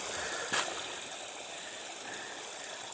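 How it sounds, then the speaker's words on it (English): Small man-made waterfall on a stream outdoors, a soft steady rushing and trickling of water, faint and continuous, with one brief louder splash near the start. "that's my little waterfall now"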